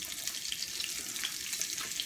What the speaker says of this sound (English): This is how I sear my Brussels sprouts.